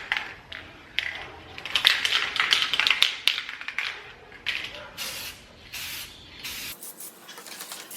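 A thin coat is sprayed onto Toyota Tundra trim in a series of short, close hissing bursts, separated by brief pauses and light tapping sounds.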